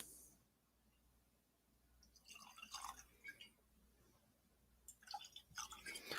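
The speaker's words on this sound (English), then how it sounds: "Oof, that's a big freaking pour." Finlaggan whisky is poured into a glass, a faint liquid trickle and splash in two short bursts, heard close and quiet in an indoor cabin with no talking.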